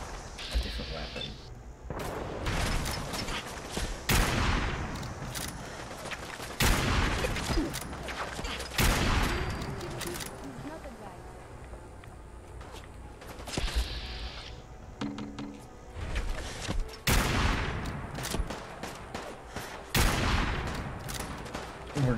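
Raider gunfire in Fallout during a fight at Warwick Homestead, repeated loud bursts and volleys of shots clustered with short gaps, with a person talking over parts of the exchange.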